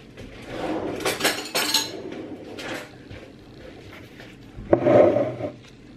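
A metal spoon clinks and rattles against dishes and cutlery in a kitchen, several quick clatters early on and a louder clatter near the end, with softer rubbing and handling in between and no talk.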